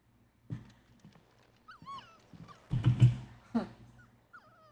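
Torgal, a dog in Final Fantasy 16, lets out soft whimpers and yips in a quiet outdoor scene, with a few bird-like chirps and a louder burst of whining in the middle.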